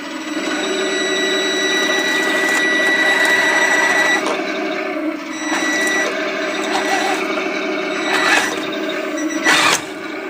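A motorized toy tank turning on a plastic surface gives off a steady, close whirring motor drone with a few sharper mechanical clicks near the end, and no voices.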